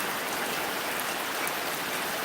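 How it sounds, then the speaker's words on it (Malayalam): Heavy afternoon downpour, a dense, unbroken roar of rain hammering down nearby, steady and alone without any voices. "ഭയങ്കര മഴ ഒരു രക്ഷയില്ലാത്ത മഴയാണ്"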